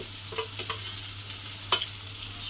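Soybean chunks being stir-fried in a spice masala, with a steady low sizzle and a few distinct scrapes and clacks of the spoon in the pan, one sharper knock near the end.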